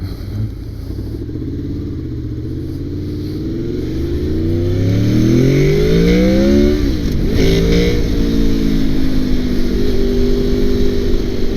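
A 2002 Honda VFR800 motorcycle engine revving up as the VTEC engages, its pitch climbing steadily and loudly, dipping briefly at a gear change, then settling into a sustained high drone.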